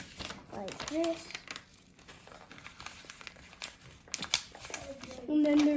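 Crisp paper crinkling and creasing as a sheet is folded into a High Glider paper airplane, close and intermittent, with a voice talking over the folds.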